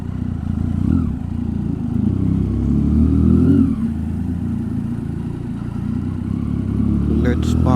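Motorcycle engine running under rider talk, with a rev swell around the middle, then settling to a low idle before parking.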